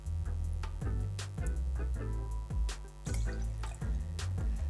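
Freshly squeezed lime juice poured into a raspberry Mai Tai cocktail, a close, light trickle and dripping of liquid with a few soft splashes and ticks, heard alone without talk.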